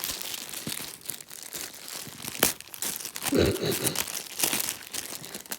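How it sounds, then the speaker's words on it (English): A plastic bag holding a heating pad crinkles and rustles steadily as it is unpacked by hand, close and fairly quiet, with a few sharper crackles. "It's in a bag."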